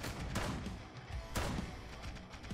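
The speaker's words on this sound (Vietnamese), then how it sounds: "Ui nó súng laser, súng laser." Laser gun blasts in the party video game Pummel Party, two or three sharp bursts over a noisy game soundtrack, moderately loud.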